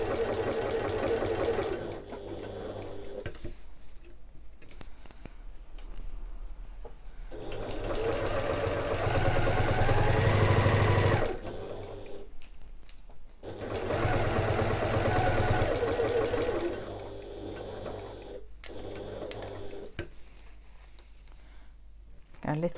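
A sewing machine stitches around all four sides of a fabric piece for an evening bag, running in steady bursts that stop for pivots and adjustments while someone talks between them.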